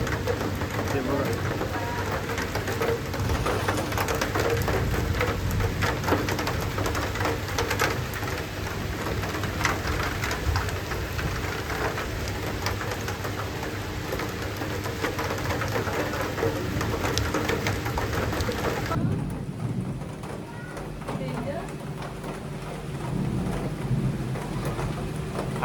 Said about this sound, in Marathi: आमच्या कॅनोपीवर पाणी पडते तर पूर्ण विजा म्हणजे पूर्ण पाण्याचा आवाज येतो.